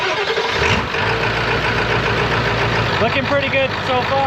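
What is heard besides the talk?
7.3 PowerStroke diesel engine starting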